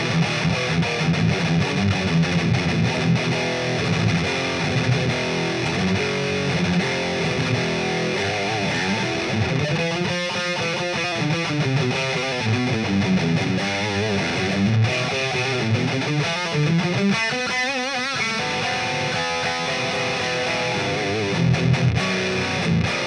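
Heavily distorted electric guitar playing thrash metal riffs and chords through the metal channel of a Line 6 Spider II 2x12 75-watt amp, loud and saturated, with thick high-gain crunch throughout.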